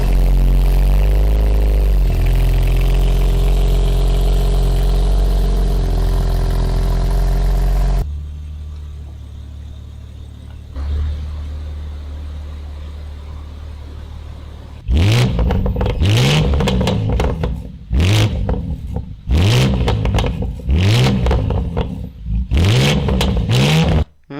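A 2023 BMW Manhart MH4 GTR rumbles loudly at idle at first, then goes quiet before a series of sharp, aggressive revs with rising and falling engine pitch, each burst separated by brief pauses.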